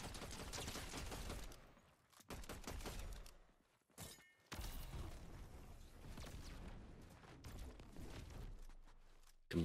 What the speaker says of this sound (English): Multiple bots shoot at the same time, try and isolate them.